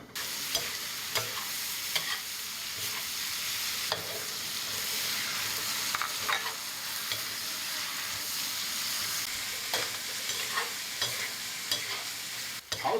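Eggs with Chinese toon leaves fry in a pan, a continuous soft sizzle broken by several sharp scraping strokes as the spatula stirs, close and moderately quiet with no talk.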